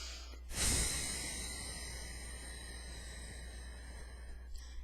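One slow, deep breath drawn in sharply then released in a long, gradual exhale, close and soft over a low steady hum, with no words spoken.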